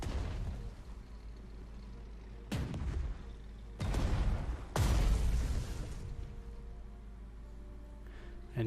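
Several booming blasts of tank artillery fire during an attack in the Panzer Strategy war game, three loud broadband bursts spaced a second or so apart, each decaying into a rumbling tail over low background.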